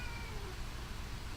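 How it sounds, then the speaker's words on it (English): A house cat gives a short, faint meow over a quiet indoor room hiss. "And that's my cat as per usual."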